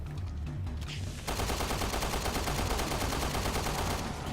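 Rapid automatic gunfire from the video game Resident Evil: Revelations 2 erupts after a quieter opening second and continues as a dense, loud, sustained burst of shots to the end.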